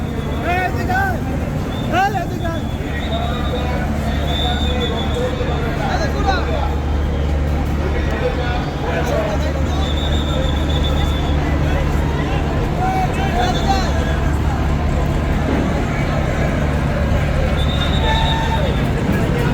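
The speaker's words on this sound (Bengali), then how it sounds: "বরিশালের কুয়াকাটা দুই লঞ্চ কিন্তু ঘাট ত্যাগ করলো" Crowded passenger launch Kuakata 2 pulls away from the river ghat at Barisal, a loud continuous low engine drone under busy crowd babble and talk, with a few higher whistling tones.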